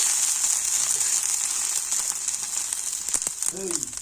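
Tomatoes frying in a pan, a steady bright sizzle with scattered stirring clicks and scrapes toward the end, close up and without speech.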